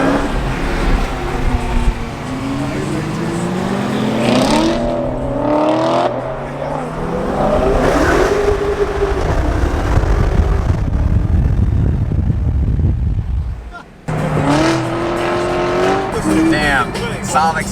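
A stock Dodge Hellcat engine revs hard and rises in pitch, with tires squealing as they lose grip, while a crowd cheers and shouts over it.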